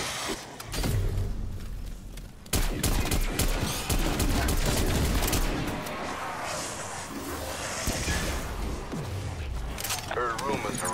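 Heavy gunfire bursts from Call of Duty: Black Ops Cold War, dense and loud through most of the stretch, layered with game effects and a voice speaking over it.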